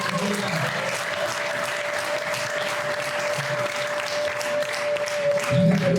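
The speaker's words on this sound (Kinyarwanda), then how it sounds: "nyemerera ukomere Imana amashyi twagize" A church congregation claps steadily in praise of God, a dense, continuous wash of hands close by that fills the whole stretch, with a sustained tone beneath and a brief voice near the end.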